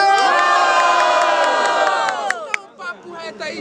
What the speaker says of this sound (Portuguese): quem gostou da rima do Kaiori faz barulho